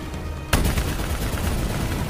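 Dense, loud gunfire from a combat scene in the video game Call of Duty: Black Ops 3, erupting abruptly and continuing as a sustained rattling barrage over a rumbling background.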